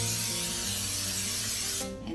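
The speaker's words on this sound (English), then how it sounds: "I'm going to spray my pans with some Baker's Joy" Baker's Joy baking spray hissing steadily from an aerosol can onto 8-inch cake pans, one continuous close spray that cuts off near the end.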